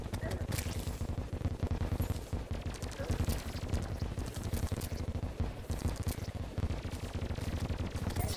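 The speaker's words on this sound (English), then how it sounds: "There's something shooting lasers at me." Rapid, dense laser shots fire in modded Terraria, a fast crackling barrage of sharp bursts running continuously at steady loudness with no talk.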